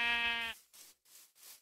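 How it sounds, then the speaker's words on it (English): A single Minecraft sheep lets out a short, close, nasal bleat, followed by a few soft breathy bursts of game noise. "Let me check out these sheep."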